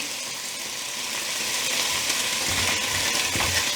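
Food stirred in a single pot over medium heat after fish dashi and a drizzle of toasted sesame oil go in, a steady close sizzle with faint scraping from the stir.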